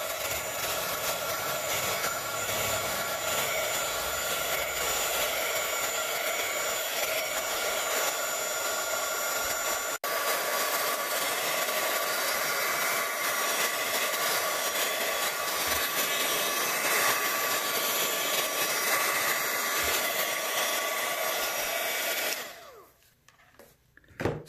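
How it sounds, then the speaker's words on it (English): A heat tool blows hot air to dry paint on an art journal page, a loud, steady whirring roar held close for over twenty seconds before it cuts off and leaves quiet. "I'm going to take a heat tool and dry that so I preserve all those beautiful colors."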